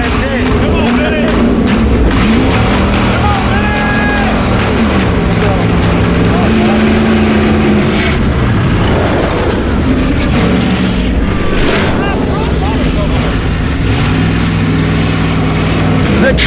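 Junkyard truck engine running after two jumps, a loud close rumble with rising and falling revs that continues unbroken.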